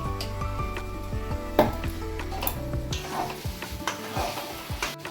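Chicken with green chilli and coriander is stirred in a pan, with a spatula scraping and knocking against the metal over a faint sizzle, close and steady with no voices.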